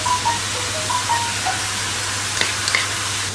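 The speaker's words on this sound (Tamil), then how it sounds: "கேரட் நல்லா வதங்கணும், நெய்யிலே வதக்கணும்." Grated carrot sautéing in ghee in a pan gives a steady, close sizzle and hiss, with faint stirring clinks and no talk over it.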